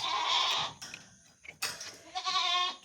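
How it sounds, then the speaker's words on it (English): Young goats bleat in short, wavering cries, several calls in quick succession, close by with brief quiet gaps between them. "Let's go wrangle some baby goats."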